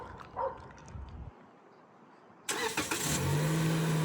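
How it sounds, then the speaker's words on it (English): A 2024 Toyota Corolla starting remotely by voice command: a sudden broadband engine roar kicks in partway through after a quiet stretch, then settles into a steady close idle hum. "Alright, the car is started."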